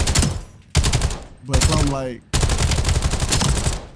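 Rapid automatic gunfire from a meta weapon in Black Ops 7, long loud bursts separated by short gaps, close and dominant, with a brief mechanical reload-like sweep between bursts.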